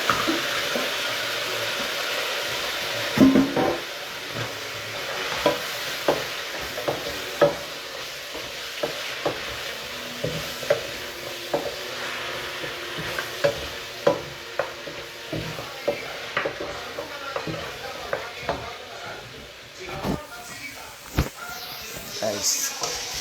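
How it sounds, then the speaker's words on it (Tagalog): Beef pieces hitting a hot pan for Filipino beef kare-kare, with a steady crackling sizzle and repeated stirring scrapes and clinks throughout, close up, while someone talks intermittently. "Ilagay na natin yung beef guys."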